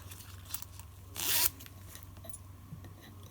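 A single quick zipper pull rasps loudly for about half a second, close up, against a quiet room hum.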